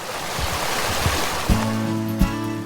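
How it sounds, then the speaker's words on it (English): Creek water bubbling and rushing in Fairview, North Carolina, a steady broadband wash throughout, with a low tonal hum entering partway through. "The soothing sounds of a bubbling creek are part of the soundtrack of life in Fairview"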